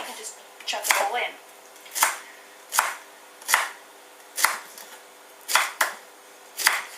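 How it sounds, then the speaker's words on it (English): Vegetables are chopped on a board for a rice salad, a close series of about ten sharp knife strikes in an irregular rhythm against quiet room sound. "it's a good idea to chop these while the rice."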